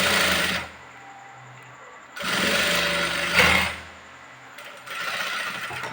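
Sewing machine stitching a blouse seam, running in three bursts of steady whirring with short quiet pauses between, close and loud with no talking.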